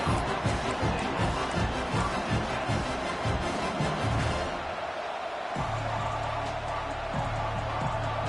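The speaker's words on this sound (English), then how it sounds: "This crowd ready to make its presence known." A stadium crowd roars throughout a college football video game, a dense, loud wall of cheering with rhythmic pulsing that drops back, then returns with a steady low tone.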